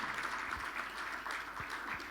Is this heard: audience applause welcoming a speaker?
yes